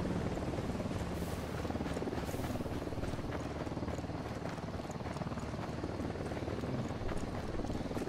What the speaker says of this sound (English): Oh, like that chopper right there.